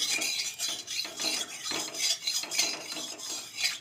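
A metal utensil scrapes and stirs around a wok holding a little oil, quick repeated rasping strokes at a moderate distance, steady and rhythmic without any voices.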